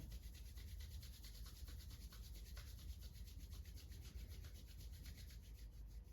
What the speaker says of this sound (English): Take the palms together. Rub them vigorously until you've got some warmth going.